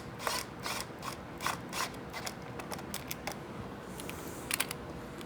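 Small screws on a Triumph Bonneville brake line bracket turned by hand with a 3 mm Allen key, giving quiet, rapid clicking and ratcheting ticks in irregular bursts, close up and faint.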